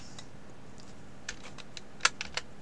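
Several keystrokes tapped on a computer keyboard while entering a Windows product key, a few sparse clicks clustered near the end, close and fairly crisp with no talking.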